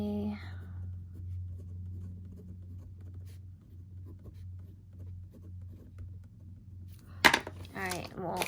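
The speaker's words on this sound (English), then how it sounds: "let's write that down here" Pen writing on paper while stuffing cash budget envelopes, soft scratchy strokes heard faint and close over a low steady hum, with a brief louder rustle and murmured speech near the end.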